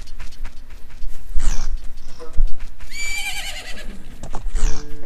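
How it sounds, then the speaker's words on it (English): A horse whinnies loudly in The Legend of Zelda: Majora's Mask, with rising and falling neighs over a steady background hum and a few hoof-like thuds. "Isn't that your horse?"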